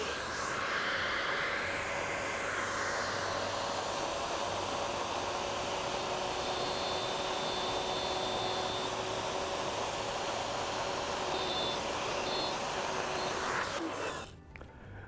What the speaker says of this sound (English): let's see how nicely the router makes this cut